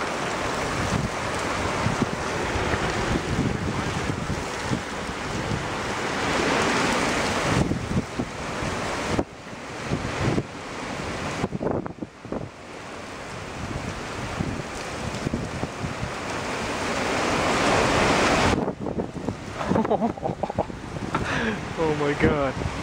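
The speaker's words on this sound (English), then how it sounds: "Oh, oh my God. It's raining sideways." Wind-driven rain blows sideways in a heavy storm, a loud roaring wash of wind buffeting the microphone with gusty surges and brief lulls, continuous and close.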